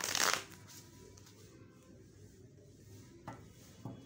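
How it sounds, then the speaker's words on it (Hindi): Tarot cards are shuffled up close, a quick riffling burst at the start followed by quieter soft card shuffles and taps. "कार्ड पहला ही पुल हो गया, but I'll shuffle them again."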